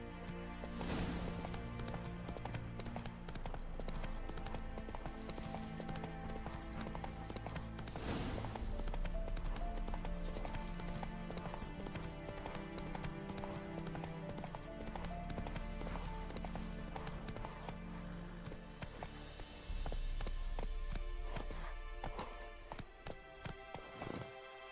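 Horse hooves clip-clop at a steady galloping rhythm as a horse runs in the video game The Witcher 3, with an occasional whinny, heard under continuous game music throughout.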